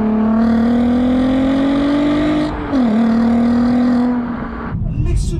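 A Volkswagen Golf R32 with its VR6 engine runs loudly up close, a steady deep rasping drone that climbs slightly, dips briefly, then holds before dropping off, with no talk over it.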